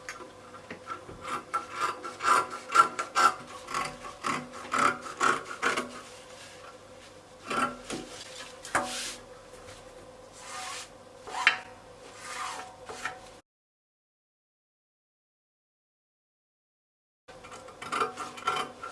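Scissors cutting through fabric for a shirt dress, with bursts of close rasping snips and rubbing of cloth, then a pause of silence before the cutting resumes.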